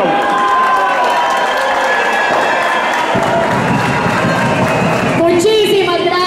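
Applause and cheering from a rally audience for a candidate for governor of Cauca, loud and sustained clapping with crowd shouts filling the space, a voice speaking over it near the end.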